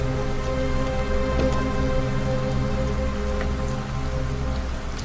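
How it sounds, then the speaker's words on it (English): Heavy rain in the video game Detroit: Become Human pours down steadily, a dense, loud, even hiss of drops spattering on surfaces that holds for the whole stretch with no voices over it. "Heavy rain. It's been the same for weeks."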